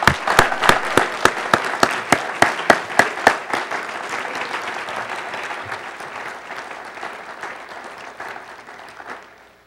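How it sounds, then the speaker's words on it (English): Graduation audience applauding at a Metro High School winter ceremony: a few loud, sharp, evenly spaced claps up front quickly swell into broad, sustained clapping from the crowd that gradually thins and fades away toward the end. "Let's give them all another round of applause"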